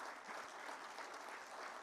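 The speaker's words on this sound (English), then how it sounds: "Let's hear it once again for our dignitaries, and this time with some loud noise." A seated audience at an awards ceremony and construction-industry annual day applauds its dignitaries. Broad, continuous clapping from many people sounds soft and distant, with no voices on top.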